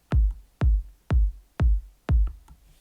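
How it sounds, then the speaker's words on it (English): A clean progressive house kick drum striking five times at an even, steady tempo, each hit a punchy deep thump with a quick decay and no other instruments. "Very clean progressive house kick"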